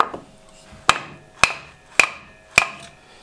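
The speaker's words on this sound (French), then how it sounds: "Pour desserrer le rabot, il faut taper sur l'arrière" Four sharp, evenly spaced mallet blows strike the back of an antique wooden jointer plane made of service-tree wood, each crack ringing briefly, with one faint tap before them and no speech.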